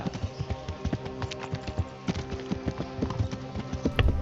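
Horse hooves walking in the medieval game Kingdom Come: Deliverance, a steady rhythmic clip-clop of repeated hoof falls over a faint background, fairly close and moderately quiet with no talking.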